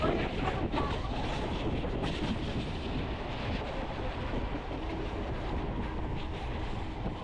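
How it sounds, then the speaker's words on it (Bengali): A steady, heavy rumble and clatter of a freight train rolling by, continuous and fairly near, with no voices. "মালবাহী ট্রেন"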